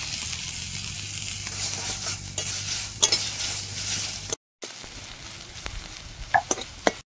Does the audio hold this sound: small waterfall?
no